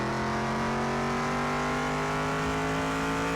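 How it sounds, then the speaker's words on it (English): A very loud V8 in Car Mechanic Simulator 2021, apparently running without an exhaust, revs with a raw race-car snarl, its steady harmonics rising slowly as it holds a continuous high-rpm drone close up. "This thing must not have any exhaust. It's a very loud V8. Sounds like a race car."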